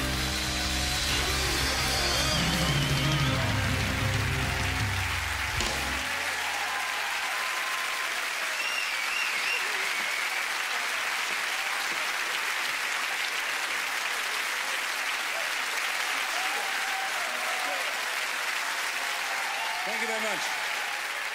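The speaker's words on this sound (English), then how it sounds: "big round of applause for Sue Great Sport" An audience at a 1996 Freddie Starr comedy show bursts into loud, dense applause for the first few seconds, then the clapping thins into a steady crowd murmur with scattered faint calls.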